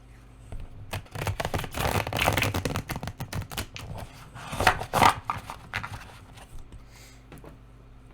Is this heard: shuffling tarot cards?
yes